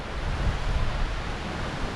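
Hurricane storm-surge water from an incoming tide, a steady, loud rush of waves and surf with low rumbling and wind noise throughout, no voices.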